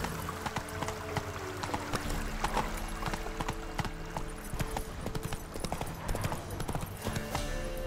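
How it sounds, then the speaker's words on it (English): Hooves of a horse clip-clop steadily at a gallop in The Witcher 3 video game, a continuous rhythmic pounding over swampy background ambience with music tones underneath. "Whoa there, Roach."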